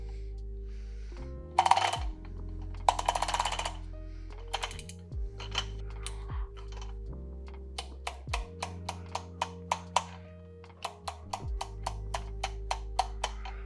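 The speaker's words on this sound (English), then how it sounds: "I'm going to grind the coffee" A hand coffee grinder works Peruvian coffee beans with ratcheting mechanical turns and low grinding rumbles, then a run of crisp, regular clicks, all close and fairly quiet.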